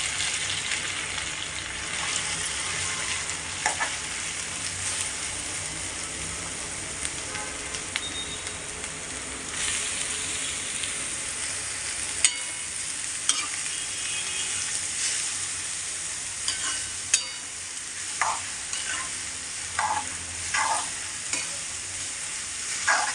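Grated carrots sautéing in ghee for carrot halwa, a steady close sizzle with scraping stirs of a spoon in the pan and occasional sharp clicks, no talking.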